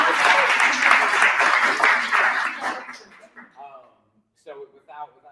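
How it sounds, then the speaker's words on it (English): An audience at a Startup Grind Rochester creative pitch event applauds loudly for about three seconds, then the clapping fades out and scattered voices follow. "Can we get another round of applause for Casey,"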